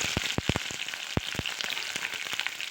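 Small onions frying in hot oil with mustard and fenugreek seeds, a close, steady sizzle dotted with sharp crackles and pops throughout.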